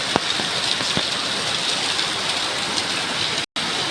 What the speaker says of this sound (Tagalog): Ulan sa kahaponon